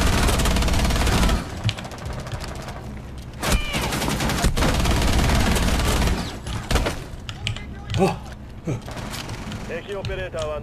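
Sustained gunfire in the tactical shooter Rainbow Six Siege, loud rapid bursts and booming shots packed densely throughout, with brief lulls and a shouting player voice over the game audio.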